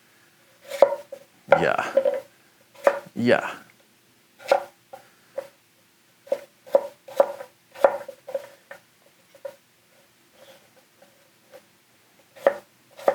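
A Kenshiro Hatono gyuto knife julienne-cuts sweet potatoes on a board, giving a run of sharp, irregular chopping taps and a couple of longer slicing strokes, with a brief spoken word.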